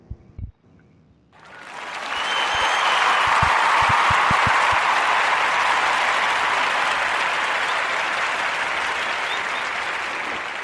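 After a brief quiet start with a few isolated claps, a loud, dense wall of crowd applause swells in and holds steady, sounding like a stock audience clapping effect rather than a live room.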